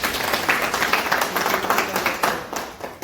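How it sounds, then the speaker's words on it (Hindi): A crowd claps for Harinder Sharma at a ceremony where trade association officials receive certificates, giving steady, dense, moderately loud applause that continues throughout with no talking. "जोरदार तालियों के साथ हरिंदर शर्मा जी।"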